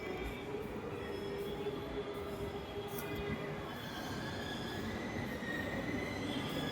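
Steady rumble of a metro train at a Hyderabad metro station, wheels grinding and squealing faintly throughout, with no voices.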